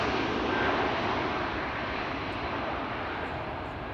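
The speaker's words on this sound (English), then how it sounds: "Finnair leaving. A320." A Finnair Airbus A320 departs Amsterdam Schiphol, its engines a broad, steady roar that holds loud and constant throughout with no voices.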